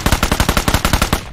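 Rapid automatic gunfire in a steady burst of about a dozen sharp, evenly spaced shots, loud and close, cutting off near the end.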